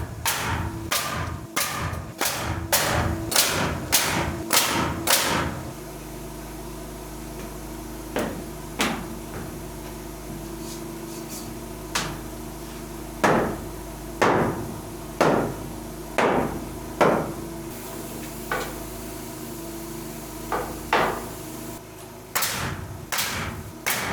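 A drywall nailer driving nails while framing a curved radius wall, fired as a fast run of sharp hammer-like bangs, then spaced single thuds and a final quick burst, close and loud.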